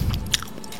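A mouthful of roast chicken breast being bitten and chewed up close, giving a brief moist crunch and squish in under a second.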